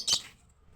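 A pet bird gives a single short, high chirp close by, and then it goes quiet.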